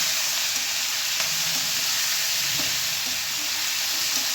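Ingredients for a rohu fish curry fry in oil with a dense, even sizzle that holds steady and close throughout, with faint clinks of stirring underneath.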